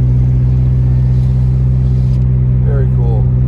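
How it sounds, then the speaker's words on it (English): A snowplow drives along a snowy mountain road in Big Bear, California, with a loud, steady low engine rumble close by throughout and a brief voice near the end. "Look at the first car we've seen is a snowplow."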